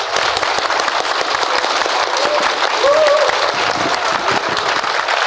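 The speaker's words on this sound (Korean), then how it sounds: "박수 한번 해주시죠" Audience at a film event clapping for the director, Jung Sang-jin, a dense, loud, continuous round of applause with crisp individual claps and no talk over it.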